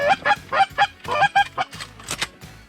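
A flock of geese honks loudly and repeatedly as they fly in over an early-season goose hunting spread in Ontario, the calls coming close and overlapping in quick bursts.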